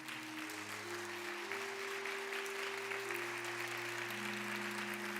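A church congregation at a Sunday evening service claps steadily to welcome newcomers, a dense, even wash of applause filling the room for the whole stretch, with a sustained organ or keyboard tone holding underneath.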